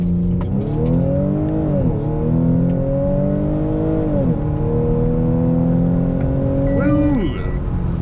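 A 2015 Audi S4 launching with traction control off in sport mode, its engine revving loud and close, climbing hard in pitch through several upshifts with brief dips between gears, under faint talk.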